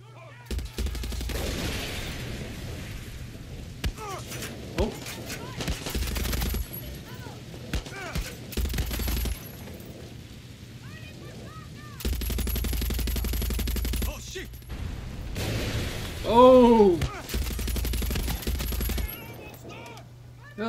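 Bursts of automatic gunfire in Far Cry 6 come in separate volleys with short pauses between them, mixed with game effects and a player talking now and then.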